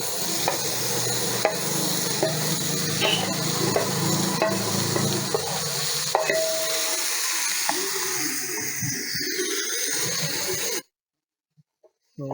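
Fish stirred into frying masala in a pan for fish puttu makes a continuous sizzle with scraping and stirring clatter. The sound gradually thins, then cuts to near silence near the end.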